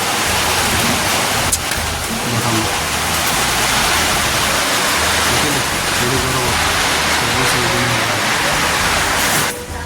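Heavy rain roars in a dense, unbroken wash of noise, with faint voices murmuring underneath.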